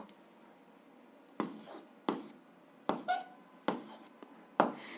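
Pen writing an algebra answer by hand on paper, heard as six short scratchy strokes spaced about a second apart, close and quiet, with no voices.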